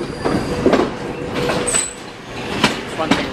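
Train running on rails in Albania, heard from inside a carriage: a loud, continuous rumble with rhythmic clacks and a brief high wheel squeal, and a voice speaking over it.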